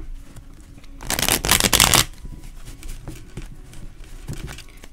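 A deck of tarot cards is riffled once in a quick, crisp burst of flapping and rustling, followed by softer handling and light taps from the cards. No one speaks.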